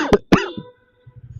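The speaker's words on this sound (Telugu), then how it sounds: "ఇంకా ఓవర్ యాక్షన్ చేస్తే అలా దగ్గు వస్తుంది." A person coughs twice, sharp, loud and close, in quick succession, followed by a short fading rasp, then near silence with a few faint low thumps.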